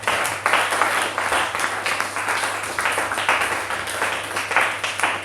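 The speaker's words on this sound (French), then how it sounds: "On acclame le Seigneur" A church congregation applauds to acclaim the Lord, a dense, sustained burst of many hands clapping with uneven surges and no voices over it.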